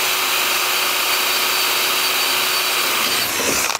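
Power drill with a 10 mm bit boring through wood, giving a steady loud whirring grind that runs continuously and close up, then cuts off abruptly at the end.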